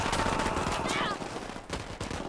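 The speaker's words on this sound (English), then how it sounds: "I'm opening fire on these shitheads." Rapid automatic gunfire in the video game Ghost Recon Wildlands, a dense sustained burst of shots that thins out toward the end, loud and close with no speech over it.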